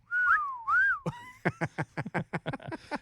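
A person whistles two sliding notes, then a quick run of short, sharp whistled pips in a rapid rhythm, close and clear.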